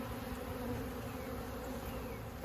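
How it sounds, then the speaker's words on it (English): Stirred-up honey bees swarm around a beekeeper's head during a hive inspection, a dense, continuous buzzing drone close to the ear, loud and unbroken with no speech. "There's what it's like when you get the bee stirred up."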